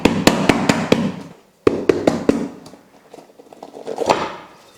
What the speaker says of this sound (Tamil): நல்லா அப்படி தட்டினோம்னா ஈஸியாக வந்து விழுந்துடும்